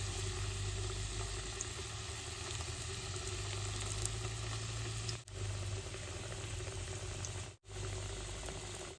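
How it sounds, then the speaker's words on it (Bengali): Jackfruit potol pitha fry in hot oil, giving a continuous close sizzle and bubbling with a brief dip partway through and a faint low hum underneath. "তেলটা গরম হয়েছে, পিঠা দিয়ে ভাইজে নেব।"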